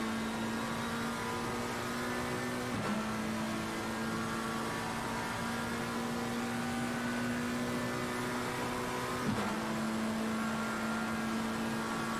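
GT3 race cars at Paul Ricard in Assetto Corsa Competizione, a steady engine drone with faint whirring tones held at constant pitch, two brief shifts where the note drops and picks up again, fairly quiet.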